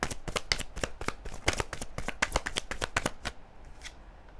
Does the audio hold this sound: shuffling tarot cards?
yes